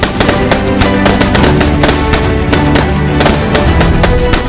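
Dense, rapid bursts of gunfire with heavier booming mortar blasts mixed in during a military demonstration, continuous and loud throughout, like sustained automatic weapons and mortar fire at close range.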